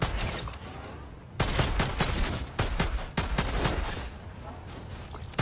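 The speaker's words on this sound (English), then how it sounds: "Now give that sidearm a try, eh?" Rapid pistol fire from a sidearm in the shooter game Outriders, a dense run of sharp, loud shots in quick bursts with brief gaps, carrying over the game's background noise.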